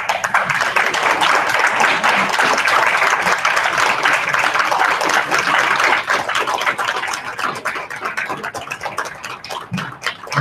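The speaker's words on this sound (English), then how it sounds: "if you would please stand so we can give you another big round of applause." An audience at a school board of education tax levy meeting gives a long, loud round of applause, with dense crowd clapping that thins slightly toward the end.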